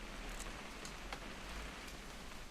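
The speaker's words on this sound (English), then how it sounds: "It's gonna rain the whole weekend, isn't it?" Steady rainfall in the video game What Remains of Edith Finch, a soft, even wash of drops with a few brighter patters, heard alone without voices.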